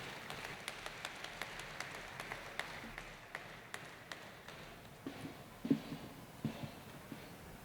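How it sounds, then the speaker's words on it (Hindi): An audience at a poetry gathering applauds to welcome poet Dr. Sita Sagar to the stage: quiet, distant, rhythmic clapping that stays steady throughout, then thins into a few scattered louder claps and a brief thump near the end. "ज़ोरदार तालियों के साथ स्वागत कीजिए, इस्तकबाल कीजिए डॉक्टर सीता सागर साहिबा का"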